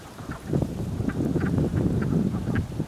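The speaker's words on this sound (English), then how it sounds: "That's the sound of the wood frog." Wood frogs calling from a Vermont pond, a chorus of short duck-like quacking clucks scattered irregularly across the clip, moderately close, with faint wind noise in the background.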